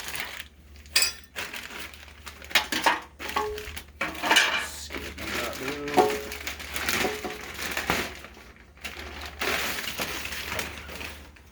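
A Holley oil pan for a Gen 3 Hemi is pulled from its packaging, giving crinkling, rustling and clattering handling noises in irregular bursts at close range over a low background hum.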